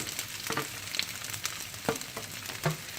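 Mashed potatoes sautéing in a pan with pepper paste for a potato börek filling, giving a steady soft sizzle and frying crackle broken by a few scrapes and stirs, close and without talk.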